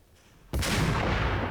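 A single loud gunshot from the Max Payne video game cracks out of near silence and leaves a dense, sustained roar of reverberation and echoing fire behind it.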